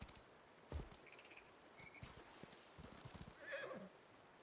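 A horse in a video game whinnies and its hooves clip-clop in a quiet, faint scene, with a soft neigh early, scattered hoof steps throughout and a higher whinny near the end.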